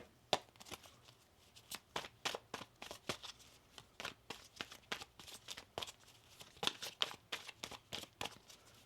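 Tarot cards are shuffled by hand in a quick run of crisp riffling and slapping bursts, repeated steadily for several seconds, close and soft.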